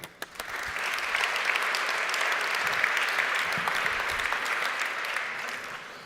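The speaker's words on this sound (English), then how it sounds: "a big round of applause to Alexandros Karatzoglou" Audience applause for the Scientific Director of Telefonica Research at a deep learning talk, a dense steady round of clapping from a hall crowd rising quickly and holding for several seconds.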